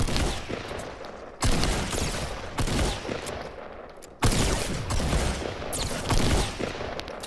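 Gunfire in the video game Fortnite arrives in dense, loud bursts of rapid automatic shots that overlap continuously, with brief breaks between volleys.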